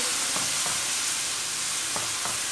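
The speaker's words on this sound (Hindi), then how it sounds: "अब अच्छे तरीके से मिक्स करेंगे" Semolina and egg halwa mixed in a pan, a loud continuous sizzling hiss broken by a few soft scraping strokes of the spoon, close up with no talking.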